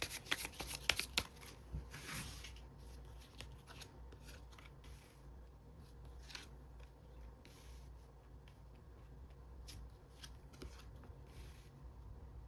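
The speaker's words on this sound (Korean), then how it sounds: "카드를 다시 뽑아보도록 하겠습니다." Tarot cards are shuffled and drawn by hand in a quiet room, with a flurry of sharp riffles at the start followed by soft, steady card rubbing and sliding, faint and close.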